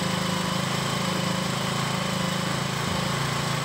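A petrol engine runs steadily while its carburetor screw is adjusted for mileage, a loud, close, continuous throbbing idle with an even beat.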